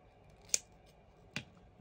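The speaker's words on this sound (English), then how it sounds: "might have to just cut off some little stray bits" Scissors snip twice, crisp and close, trimming stray bits of material for a handmade birthday card, with a quiet pause between the two cuts.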